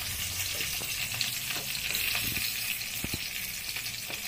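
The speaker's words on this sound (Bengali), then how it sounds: "পটলগুলো এক পাশ ভাজা হয়ে গেছে, এখন আরেক পাশের জন্য উল্টে দিচ্ছি সব।" Pointed gourd pieces fry in hot oil in a pan for a yogurt potol dish, giving a steady close sizzle with a few soft clinks and stirring scrapes as they are turned over.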